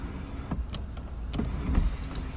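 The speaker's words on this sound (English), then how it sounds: "sunroof, so it tilts" Motorised whir of a Subaru XV's electric sunroof tilting and sliding, a steady hum heard inside the car with a few faint clicks, no voices.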